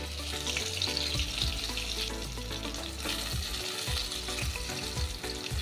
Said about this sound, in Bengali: এবার আবার অর্ধেক ঢাকনা দিয়ে গ্যাসটা মিডিয়ামে করে ভেজে নেব